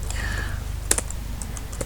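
Keystrokes on a computer keyboard while entering network configuration commands, a quick close run of clicky taps with a few sharper strikes, alone without talk.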